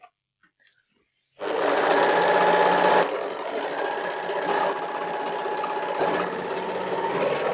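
An overlocker sewing machine stitching dance-wear fabric starts abruptly after a second of near silence, then runs loud and steady with a fast rhythmic whir, easing slightly in pitch and level partway through.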